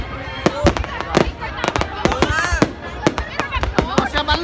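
Fireworks being set off, a rapid string of sharp crackling bangs and pops close by, with a crowd talking underneath.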